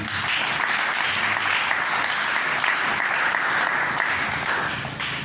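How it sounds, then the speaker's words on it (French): Steady applause from a large church congregation during a worship service, continuous clapping at an even level throughout, fading slightly at the end. "Applaudissons notre Dieu."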